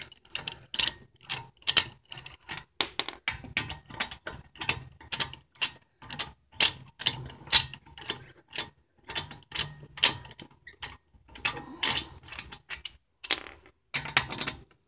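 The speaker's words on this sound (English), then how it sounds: "it's a 17 mil socket for these lug nuts" A hand socket ratchet loosens the lug nuts on a BMW E36, giving quick, sharp clicking strokes in uneven bursts across the whole span. The clicks are close and crisp against a quiet background.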